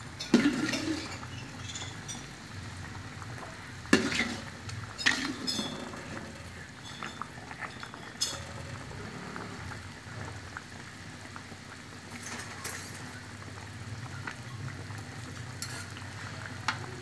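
A spatula stirs fish acar cooking in a pan, giving a continuous rain-like frying crackle with a few sharper scrapes and knocks near the start, then a steady, moderate sizzle with no talking.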